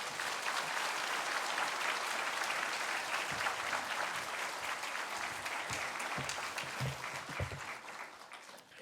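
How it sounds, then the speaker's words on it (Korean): A church congregation at a Sunday service applauds to welcome the pastor, a full, sustained wash of clapping that stays loud for about nine seconds before easing slightly at the end, with faint low murmurs underneath. "마음을 담아서 큰 박수로 맞이해 주십시오"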